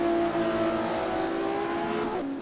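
A Porsche Cup race car engine in a racing video game, a loud, close, sustained high-revving whine that holds steady and then drops in pitch near the end as it shifts or lifts.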